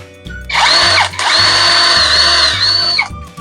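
Portable rechargeable power drill fitted with a small round drill bit, its motor whirring loud and close in two bursts with a brief dip between.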